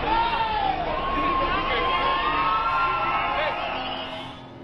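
A protest crowd cheers and shouts together in a sustained, loud roar, with whoops rising over it before the noise fades slightly at the end.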